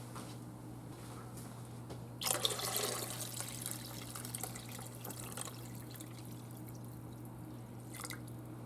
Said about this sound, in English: I'm going to add one more large can of water to this.